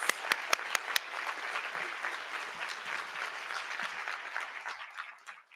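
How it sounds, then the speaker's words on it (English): An audience applauds Dominique and the Salish School students at a morning livestreamed event. A few sharp early claps swell into sustained, dense clapping that fades slightly toward the end. "one more round of applause for Dominique and the Salish School students"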